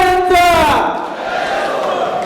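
A crowd at an MNS political rally in Maharashtra erupts into loud, dense cheering and applause, starting with a sharp shouted voice and swelling into a roaring wash of noise.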